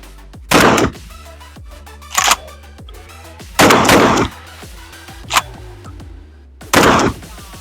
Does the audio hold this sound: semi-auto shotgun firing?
yes